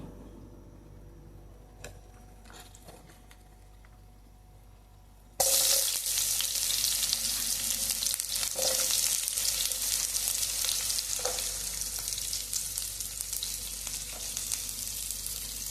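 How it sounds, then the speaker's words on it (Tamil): Chopped onions drop into hot oil for egg bhurji, and a loud, dense sizzle bursts in about a third of the way through, then stays steady and close after a quieter stretch of kitchen background. "இப்போ அந்த எண்ணெய் காஞ்சதுக்கப்புறமா இந்த வெங்காயத்தை அள்ளி அதில் போட போகிறோம்."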